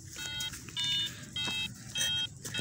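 An MD3010 metal detector gives repeated short, high electronic beeps in bursts of roughly half a second, fairly faint, over a low background hum.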